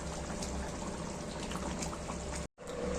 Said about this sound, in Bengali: আর দেব হচ্ছে ঘি,